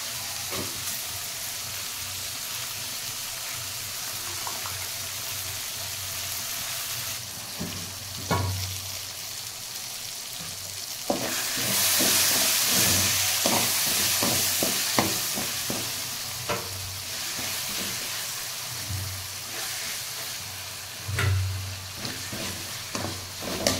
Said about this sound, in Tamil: இப்போ தக்காளியும் வெங்காயமும் நல்லா வதங்கிருச்சுங்க